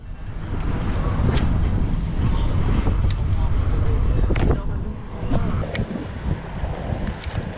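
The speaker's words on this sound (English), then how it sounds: "Crazy wind. We got crazy wind." Strong wind buffets a fishing boat out on saltwater, a constant roaring rumble across the whole stretch with gusty swells, loud and close, while people talk over it.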